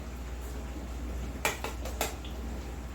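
A metal spoon clinks against dishes while pumpkin custard is served in a kitchen, a few quick light clatters in the middle over a low steady hum, no voices.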